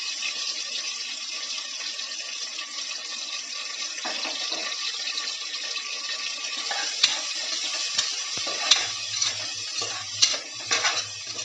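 Onions sizzling in hot oil in a pan with green chillies and curry leaves, a continuous frying hiss with occasional stirring clinks and scrapes, close and steady without speech.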